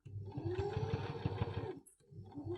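A sewing machine runs a top stitch seam with the needle set to the far left, giving a steady, close mechanical whir with rapid needle pulses. It stops briefly, then starts up again.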